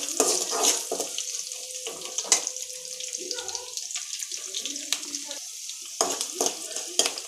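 Onions and curry leaves frying for a spinach sambar sizzle under repeated stirring, with sharp metallic scrapes of the spoon and a few clanks against the pan; nobody speaks.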